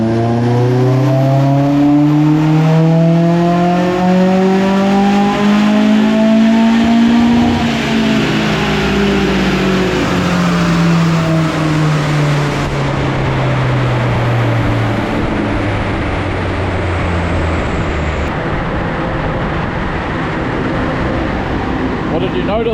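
A Toyota 4AGE engine fitted with individual throttle bodies and adjustable cam gears revs hard on a dyno, climbing in long sweeping pulls and then falling back, loud and close, with a raspy intake howl.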